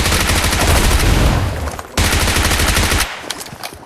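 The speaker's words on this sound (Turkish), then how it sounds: "Çok mermi sıkıyorum." Rapid, loud gunfire in the PUBG Mobile video game, a dense run of close shots with a short break near the middle, then fading into sparser bursts, alone without talk.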